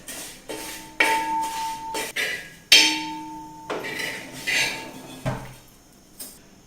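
A metal spoon clinks and scrapes against a pan while roasted vermicelli is scooped out, giving several sharp metallic knocks and ringing tones in an uneven rhythm.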